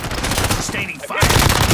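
Rapid automatic gunfire in the Warzone video game, a dense rattling burst that pauses briefly and then resumes louder, close and continuous over under two seconds.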